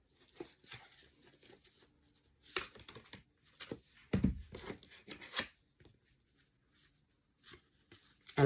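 Oracle cards are shuffled and handled up close, giving intermittent papery riffles, slides and rustles in short bursts separated by quiet gaps.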